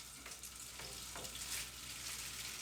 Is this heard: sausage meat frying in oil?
yes